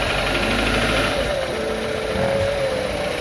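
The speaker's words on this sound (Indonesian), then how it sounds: "ini suara mesinnya agak ngelitik ya sebenarnya nih" A used car's 2500 cc VTC engine idles with a knocking fault, giving a steady, loud mechanical hum with a faint rapid ticking and a thin whine running through it.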